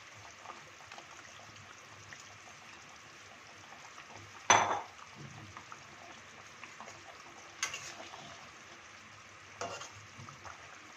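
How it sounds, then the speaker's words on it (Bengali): A few soft plops and splashes as fried raw-banana kofta balls land in a gently bubbling curry gravy, spaced seconds apart over a quiet simmering hiss. "ঝোলটা ফুটে গেছে কলার বলগুলো আমি দিয়ে দিচ্ছি ভাজা বলগুলো দিয়ে দিচ্ছি"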